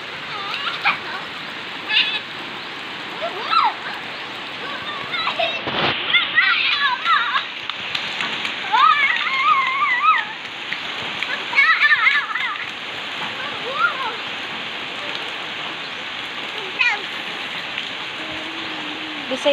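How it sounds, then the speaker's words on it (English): Steady rain pours down with intermittent splashing as a child plays in it outdoors, while people talk and a voice is heard over the constant hiss of falling water. "You're showering in the rain?"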